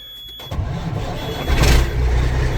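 A turbocharged car engine cranks and fires up close by, catching after half a second and settling into a loud, steady rumble that swells slightly, with no talk.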